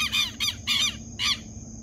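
Birds call in short, bright squawking bursts, four of them over a steady low background hum, at sunset beside the Tocantins River in Marabá where someone is fishing.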